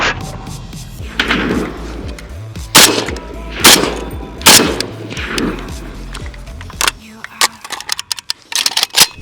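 Gunfire at a shooting range: several loud, sharp reports spaced irregularly, some close together, under talking voices and a low rumble before it goes quieter.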